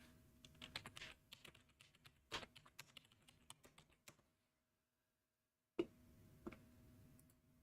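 Mouse clicks and keyboard taps sound faintly while parcel fabric data is entered on a computer, forming a quick irregular patter, then a pause of near silence, then a few more clicks.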